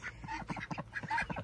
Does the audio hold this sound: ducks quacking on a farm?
yes